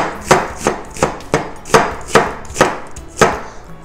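A knife chops steadily through onion on a cutting board, about nine even, crisp strokes in a regular rhythm, close and clear with no talking.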